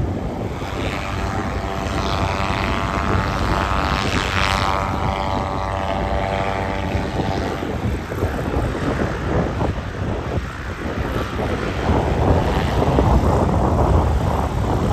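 The propeller engines of the Goodyear blimp drone steadily as it lands at its hangar in Pompano Beach, a loud continuous roar mixed with wind rumble that lasts throughout.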